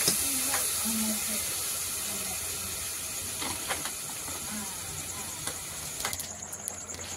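Water hits a spiced pabda fish curry cooking in a pan, giving a continuous steamy hiss and bubbling sizzle with a few soft clicks of a utensil, moderately quiet and close, with brief low speech.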